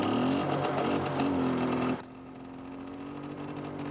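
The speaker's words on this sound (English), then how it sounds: "Arriving for a hot date on a moped." A small moped engine revs with a buzzy, whirring tone that rises and holds, then drops to a steadier, quieter running note, close and alone with no talking.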